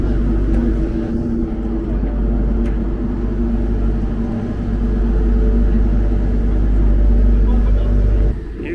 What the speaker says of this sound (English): It's a big ferry, car ferry,